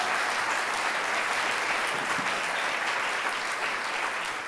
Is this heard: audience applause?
yes